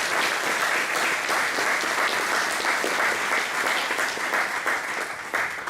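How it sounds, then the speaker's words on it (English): A conference audience at the OpenSIPS Summit 2024 in Valencia gives Celeste a round of applause, a steady wash of many hands clapping close and loud for the whole stretch. "Let's give Celeste a round of applause."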